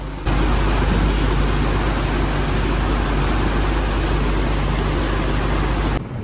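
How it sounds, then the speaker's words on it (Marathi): Heavy rain pours down steadily at a CNG pump in Navi Mumbai, a dense, loud, unbroken hiss with a low rumble underneath that holds for several seconds without any voices. "पण पाऊस बघा यार"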